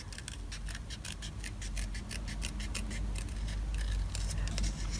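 Scissors snipping around a paper Halloween card, a quick steady run of small crisp cuts close up with no talk.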